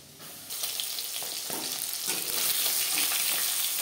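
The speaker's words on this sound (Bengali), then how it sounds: "মাছ ভাজা হয়ে গেছে" Pieces of rohu fish fry in hot oil in a home kitchen, giving a steady, close sizzle and crackle that swells after the first half second and stays busy throughout, with no talking.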